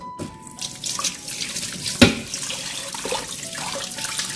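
Tap water runs into a kitchen sink while mackerel is rinsed clean, a steady splashing stream with clinks and drips throughout, fairly close.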